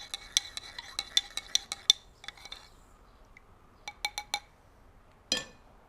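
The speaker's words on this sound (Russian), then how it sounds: "Размешаю томат и стакан воды." A spoon clinks rapidly against a glass while stirring tomato paste into water, a quick run of light taps, a pause, then a few more clinks and a final scrape.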